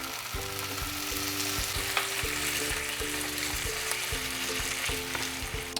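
Chicken cacciatore in tomato sauce sizzling and frying in a pan, a dense steady crackle with faint stirring knocks, close and continuous without voices.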